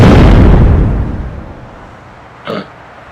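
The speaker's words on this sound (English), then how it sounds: "Oh, grenade!" A grenade blast goes off as a loud, close boom and rumbles away over about two seconds, followed by a brief, fainter burst.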